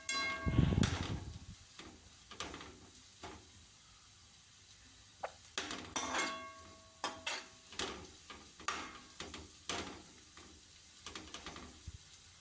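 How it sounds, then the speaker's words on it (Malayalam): Shallots and onions sautéing in oil while being stirred for a prawn roast: a soft continuous sizzle under a loud scrape near the start, then repeated scraping and clinking strokes of a spoon against the pan. "ഉള്ളി വഴണ്ടി വരുന്നത് കുറച്ച് ഒരു 5 മിനിറ്റോളം ഇതൊന്ന് വഴറ്റിയിട്ട് ചെറിയ ഉള്ളി ചേർത്ത് കൊടുക്കുക"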